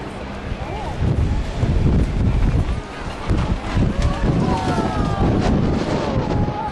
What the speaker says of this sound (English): It's very, very windy here. It's going mad.